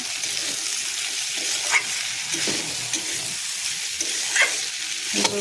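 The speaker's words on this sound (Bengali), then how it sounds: "ফুলকপি আলু দিয়ে ভাজি বসিয়ে দিয়েছি, তেল দিয়ে দিয়েছি।" Cauliflower and potato bhaji fries in oil in a pan. A steady, close sizzle runs throughout, with occasional louder scrapes and pops from stirring.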